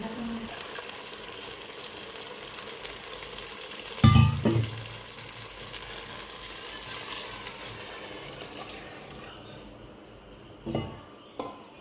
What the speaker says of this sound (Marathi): चांगल्या प्रकारे मिक्स करून घेतल्यानंतर आपण आता यात पाणी ॲड करू